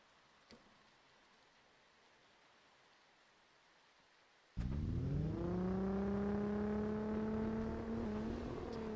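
A Nissan 370Z engine in Test Drive Unlimited 2 suddenly starts up after near silence, settling into a steady idle drone with a faint rise in pitch.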